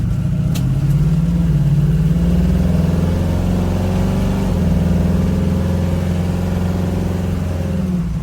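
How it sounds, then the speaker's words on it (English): A small-block V8 in a 1969 Chevrolet Camaro RS rumbles loud and close on an open road, revving steadily with a deep, throaty growl that rises and falls slightly over several seconds. "we will open up for you, get a little sound of the car"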